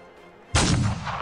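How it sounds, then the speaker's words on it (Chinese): A single sharp gunshot on open plain cracks out loud after a quiet lead-in, followed by a sustained echoing tail that fades slowly. "查姆瞄准新喷出的邪兽扣下了扳机， 枪声清脆地回响在平原上"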